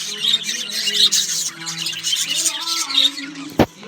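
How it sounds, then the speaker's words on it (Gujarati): Parrots kept in a large cage at a village ashram squawk and chirp repeatedly in a busy, overlapping chorus, loud and close, with a sharp knock near the end. "બીજું મોટું પાંજરું રાખેલું છે, એમાં આપણે પોપટ રાખેલા છે।"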